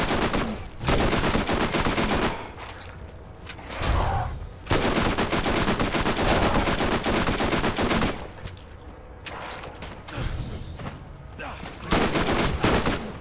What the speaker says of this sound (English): next let's test the SMG.